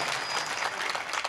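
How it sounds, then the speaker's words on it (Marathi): An audience claps steadily at a kirtan, a dense, continuous burst of applause from a crowd filling the whole short stretch. "मोकळ्या मनाने टाळ्या वाजवा एकदा"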